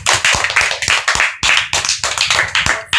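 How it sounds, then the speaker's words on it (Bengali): An audience claps loudly and steadily for a child about to recite Tagore at a Rabindra Jayanti evening celebration, with dense, close handclaps running throughout. "তাহলে নন্দিনীর জন্য সবাই একটা জোরে করতালি হয়ে যাক"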